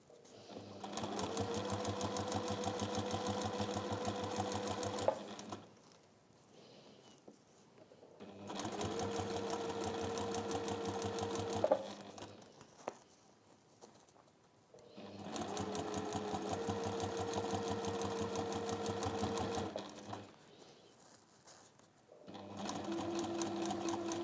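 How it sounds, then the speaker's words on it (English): A sewing machine stitches a pouch lining slowly and steadily in three long runs of even mechanical whirring. Brief quiet pauses separate the runs, and a fourth run starts at the end. The machine is close and sounds alone. "I normally sew super fast, but on this you just want to go slow and steady."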